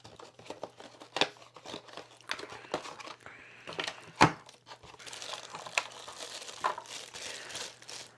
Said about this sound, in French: On va la déballer ensemble.